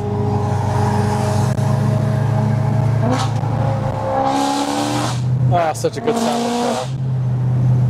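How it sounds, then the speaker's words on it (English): A Mercedes E55 pulls hard under heavy acceleration, its engine note climbing loud and close through several rising sweeps with gear changes, while a person speaks and exclaims over it. "such a good sounding car."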